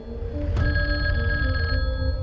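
A telephone bell rings loudly and steadily, a sustained electronic trill starting with a sharp onset and continuing alone over a low background hum.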